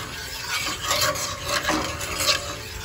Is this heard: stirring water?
yes